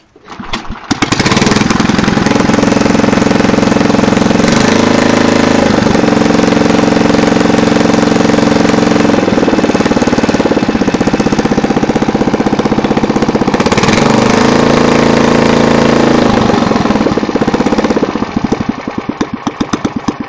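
A Jacobson engine starts from cold with a short crank, then runs loudly and steadily close by for most of the time, its pitch dipping and rising a couple of times before it winds down.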